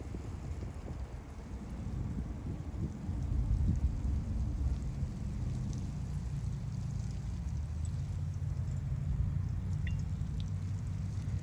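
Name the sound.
water poured like rain onto a soil box with dead cover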